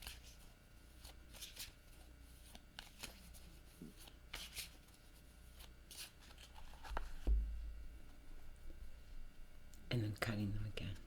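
A deck of tarot cards is shuffled close up in quiet bursts of soft riffling and rubbing, with brief pauses between passes and a low voice murmuring in the background.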